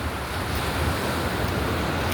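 Mediterranean sea waves wash onto Fuengirola beach, a steady, fairly loud rush of surf mixed with wind noise and no talking.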